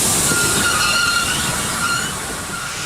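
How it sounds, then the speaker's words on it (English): A train arriving, a steady loud rumble of wheels and carriages with a high metallic squeal, slowly fading toward the end, with no voices. "There's a train."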